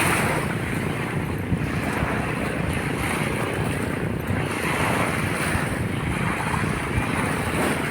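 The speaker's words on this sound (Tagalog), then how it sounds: "hanggang dito ay rinig pa ang tunog ng mga bangka" Boats rumble offshore at Dolomite Beach along Manila Bay, blended with steady surf and gusting wind noise on the microphone. The wash stays constant for the whole stretch, with no voices.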